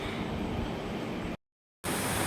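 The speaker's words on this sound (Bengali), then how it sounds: "তো এই যে আমরা এখন ট্রেনে বসে পড়েছি" Steady, loud rumbling roar inside a moving train, cut by a sudden brief silence before the rumble resumes.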